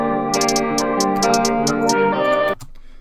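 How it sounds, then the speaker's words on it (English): Programmed closed hi-hats ticking in quick repeated bursts over a sustained synth melody in an FL Studio trap beat, cutting off abruptly near the end. "Okay, so those are hi-hats right there."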